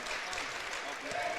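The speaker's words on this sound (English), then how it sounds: "Seniors getting a nice round of applause." A basketball crowd at a girls' regional semifinal between the Wahpeton Lady Huskies and Fargo North gives the seniors a round of applause, a dense, even clapping that runs under a commentator's talk.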